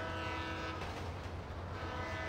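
A train horn sounds in GTA V, a sustained loud blare riding over steady rumble and rail clatter from the moving train, with no talking.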